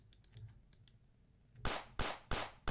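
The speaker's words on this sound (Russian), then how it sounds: "Выстрелы вы слышали?" Gunshots in the mobile battle royale game Last Stickman: Battle Royale, four sharp cracks in quick succession after faint clicking, the shots loud and evenly spaced near the end.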